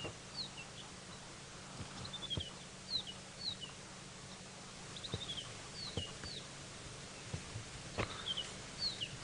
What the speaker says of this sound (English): Sounds like a white-browed scrub robin,